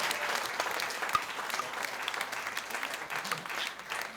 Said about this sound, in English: Round of applause for Bert.